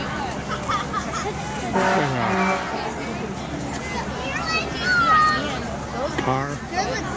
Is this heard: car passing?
yes